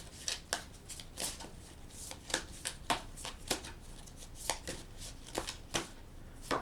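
Tarot cards are riffled and shuffled by hand, a quick series of crisp flicks and slaps, close and fairly soft, with no talking.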